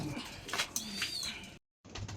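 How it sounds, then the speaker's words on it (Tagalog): A black checkered fancy pigeon in a fancier's loft gives soft, throaty coos in short repeated bursts, close by, broken by a brief silent gap before the cooing resumes. "Itong ibon ni Kenshin."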